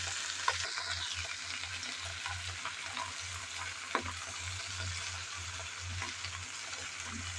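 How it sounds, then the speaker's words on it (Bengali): Fresh jute greens frying in a pan and being stirred, a continuous close sizzle with occasional soft knocks and scrapes from the spoon. "সবগুলো শাক দেওয়ার পর নেড়ে চেড়ে ভালোভাবে মিশিয়ে নেব।"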